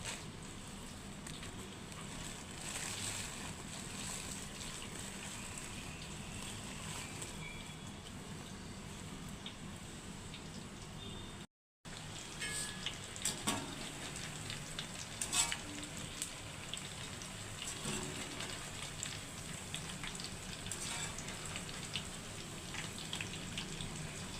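Green chillies coated in two tablespoons of cornflour deep frying in hot oil, a steady dense sizzle and bubbling that runs throughout with a momentary dropout midway.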